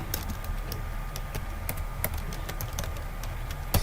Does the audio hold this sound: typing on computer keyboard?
yes